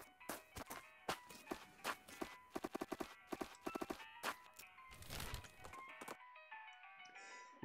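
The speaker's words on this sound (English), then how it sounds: "You spot a guy riding down the road on a brown horse" Horse hooves clip-clopping in the West of Loathing video game, a brisk series of sharp, close knocks in uneven bursts, followed by a brief chime before a quiet tail.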